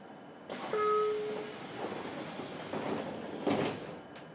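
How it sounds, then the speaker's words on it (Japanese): Doors of a 303 series commuter train slide shut with a short chime and a soft thud, followed by a brief hiss over quiet cabin hum. "扉が閉まります"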